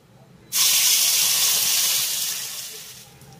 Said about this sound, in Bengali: আর এবার আমি এই ফোড়নের ভিতরে দিয়ে দেবো তৈরি করে রাখা মশলাটা।